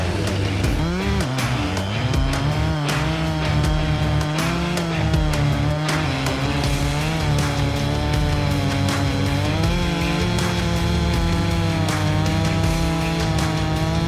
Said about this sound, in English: he'll end trim it with a chainsaw